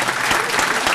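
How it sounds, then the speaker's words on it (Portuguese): A brief burst of dense crowd clapping at a freedom-of-expression rally, honoring Eduardo Guimarães; steady, loud and close, with no pause. "Eu queria pedir uma salva de palmas especial para o nosso colega companheiro Eduardo Guimarães"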